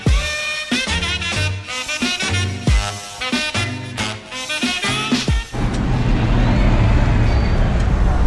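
Bus on a street in Croatia, heavy engine and passing traffic with sharp transient knocks and hisses like air brakes, then a steady broadband road rumble toward the end.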